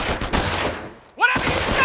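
Gunfire crackles in rapid bursts during a Company of Heroes battle, a dense, busy volley that drops away briefly before a shouted voice and renewed shooting cut back in.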